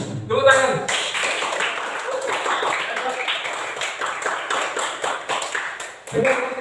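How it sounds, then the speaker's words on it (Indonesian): A ninth-grade class claps together in a classroom, a busy patter of many hands lasting several seconds, with a voice briefly heard at the start and end. "Tepuk tangan."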